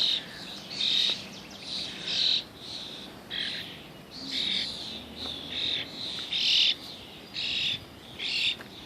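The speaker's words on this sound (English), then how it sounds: "Here's my new bird." A pet bird calls in repeated bright chirping bursts, roughly one each second, fairly close and clear over a soft outdoor background during a morning walk with a dog.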